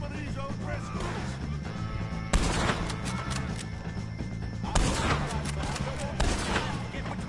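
Gunfire in Red Dead Redemption 2 during a fight with O'Driscoll gang members: several sharp shots and crashes stand out against a busy din of battle, while voices talk underneath.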